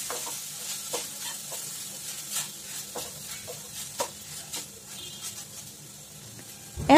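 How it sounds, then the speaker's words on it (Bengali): Leftover rice frying in a pan over low to medium heat, a faint steady sizzle broken by regular scraping stirs about once a second, ending in a louder clatter against the pan. "হালকা থেকে মাঝারি আঁচে ভাতগুলো ভাজতে হবে"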